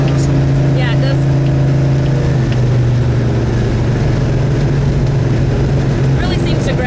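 A 1970 Torino Cobra on new tires drives down the road with a loud, steady low engine drone and road rumble, its pitch stepping down slightly partway through, with faint voices in the background.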